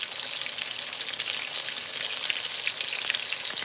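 Whiting fish frying in oil, a steady, dense crackling sizzle that holds at an even level throughout with no talking.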